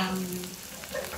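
Garlic fries in a pan with a steady close sizzle and some stirring scrapes, and a brief hum is heard at the start.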